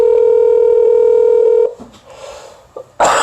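A phone line gives a steady dial tone for over a second, then breaks into short touch-tone dialing beeps on a call to the Prime Minister Trudeau's office, loud and close.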